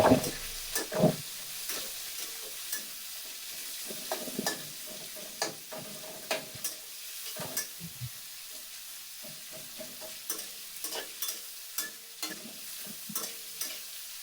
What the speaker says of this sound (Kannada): ಇದನ್ನ ಚೆನ್ನಾಗಿ ಫ್ರೈ ಮಾಡ್ಕೊಳ್ಬೇಕು.